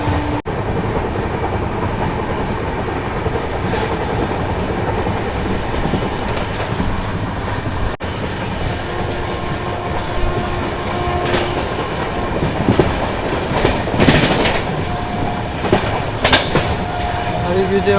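A train runs on the Rajkot–Kanalus double railway line near Pipli station, a loud continuous rumble with rhythmic clickety-clack of wheels and occasional squeals building toward the end.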